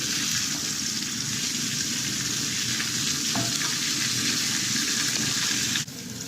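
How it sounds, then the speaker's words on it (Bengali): Chopped onions fry in a pan of hot oil just after chicken pieces were browned, producing a loud, even crackling sizzle that holds steady and close, without voices, before a slight drop at the end. "পেঁয়াজ কুচিগুলো দিয়ে দিচ্ছি।"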